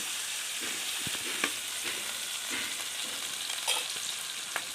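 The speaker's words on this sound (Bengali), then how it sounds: "জিরে দিলাম, একটু একটু হালকা করে একটু নাড়া লাগবে।" Cumin seeds sizzle steadily in hot oil for a fish and bottle gourd dish. Light, periodic scrapes of a stirring utensil sit over the frying.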